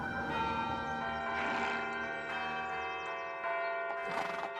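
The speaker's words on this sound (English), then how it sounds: "Major Pitcairn, what do you make of all these bells?" Church bells ring out loud and sustained in an animated scene of colonial Lexington, rich overlapping tones swelling in repeated strikes with no voices over them.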